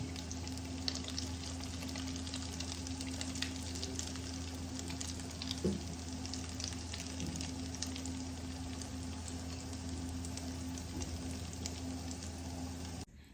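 Chilli garlic potato bites frying in oil give off a steady soft sizzle with faint crackles and a low hum in the background, quiet and continuous with no voices.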